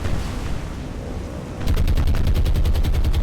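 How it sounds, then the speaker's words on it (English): Anti-aircraft guns blaze at attacking bombers in the naval combat game War on the Sea, a steady low rumble breaking into rapid, rhythmic bursts of heavy automatic fire that carry on loudly to the end. "all anti-aircraft guns blazing, trying to bring down these two"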